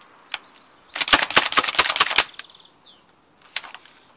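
A Nerf Rebelle Secret Shot purse blaster fires off a quick clattering run of sharp plastic clicks and snaps, followed after a pause by a few more scattered clicks, heard close and alone.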